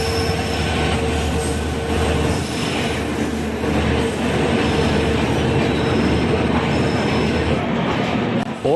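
Passenger train hauled by a WDP diesel locomotive on the Jaipur to Indore Ranthambhore special, a continuous loud rolling rumble of wheels on track with a faint squeal, heard close from on board.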